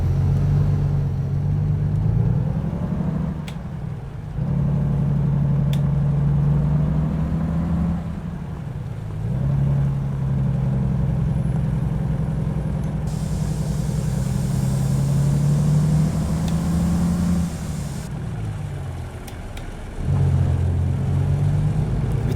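A heavy truck in American Truck Simulator rumbles along the road with a steady low engine drone, rising and dropping in pitch through several gear changes, with no voices.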